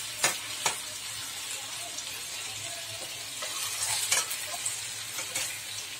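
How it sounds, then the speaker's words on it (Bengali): Potatoes being stirred with salt in a pan for a Bengali chicken and potato curry: a close, steady sizzle broken by sharp spoon scrapes and clacks against the pan, with no talking. "এবার আলুগুলো দিয়েছি, নুনটা এটা মিশিয়ে দেবো।"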